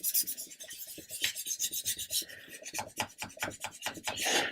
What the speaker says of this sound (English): I actually went in with a file to do that bit.